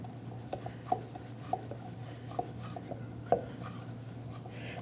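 Soft scraping taps of a utensil stirring in a pan to deglaze reduction off the bottom, a handful of light irregular knocks over a steady low hum.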